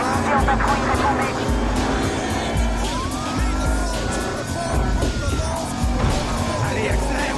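A car speeds through city streets in the video game Battlefield Hardline, its engine droning steadily with tire squeals and a rising whine, close and loud beneath a police radio voice and game sounds.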